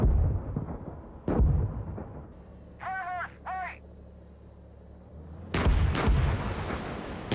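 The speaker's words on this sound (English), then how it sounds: "going to call some artillery to give us a little support here" Artillery fires in a colourful, realistic military video game with several loud, booming blasts. Two separate bursts open and close the passage, with quieter rumbling and a brief bird-like cawing between them.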